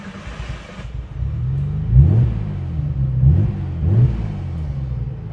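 An RB26-swapped Nissan 300ZX, low on fuel and untuned, restarts after stalling and idles with a deep, uneven rumble, blipping three times into rising revs, close and loud with no talking.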